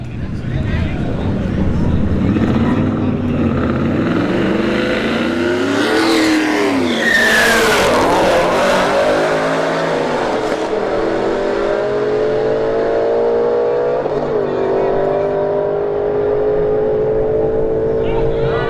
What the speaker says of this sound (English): Alright, F-150 versus the Shelby GT350.